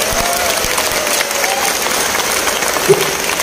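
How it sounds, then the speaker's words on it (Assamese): Long applause from a large crowd at a recruitment event honouring Assam's education minister, dense sustained clapping at close range with a faint murmur underneath. "আমি সকলোৱে এটা দীঘলীয়া হাত চাপৰিৰে ধন্যবাদ জনাওঁ"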